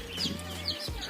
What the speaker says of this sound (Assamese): কিন্তু মাত্ৰ 9টা মুৰ্গীৰ পোৱালি আছে, ইমান আৱাজ মানে থাকিব পৰা নাযায় ঘৰত